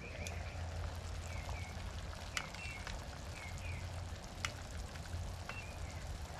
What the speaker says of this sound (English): Yep, we have boiling water.